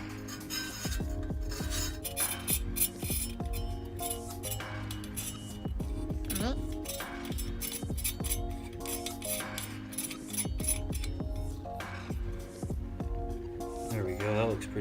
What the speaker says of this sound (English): Now I have my little mini suppressor. Let's make sure it even fits in here.